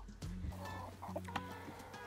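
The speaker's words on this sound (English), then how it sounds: "I've also got a light Sussex cockerel" A Light Sussex cockerel clucks close by in a short run of low, throaty calls, fairly soft and alone.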